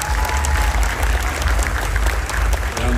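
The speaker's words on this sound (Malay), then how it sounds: "Sekali lagi kita beri tepukan kepada Yang Amat Berhormat Menteri Besar Johor." Audience applause at a formal Malaysian government talent development event in Johor, a steady, dense wash of clapping filling the hall for the full three seconds with no pauses.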